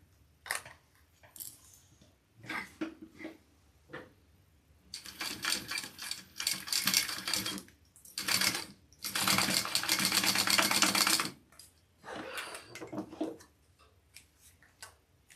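A sewing machine stitches a webbing connector onto a mini scout bag in bursts of rapid mechanical rattling, short at first and then a long steady run, with quiet pauses between bursts.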